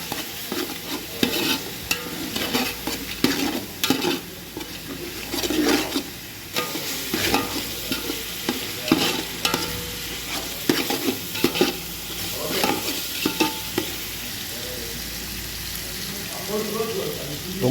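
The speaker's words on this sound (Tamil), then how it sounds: "வெங்காயம் நல்லா வதங்கிட்டு இப்போ இஞ்சி பூண்டு பேஸ்ட்டு சேர்த்துருக்காங்க. நல்லா கிண்டி விட்ருக்காங்க பச்சை மணம் போட்டு." Onions fry with ginger garlic paste in a pan, a constant close sizzle broken by repeated scraping and clacking of a spoon as it's stirred, loud and irregular, with some faint talk in places.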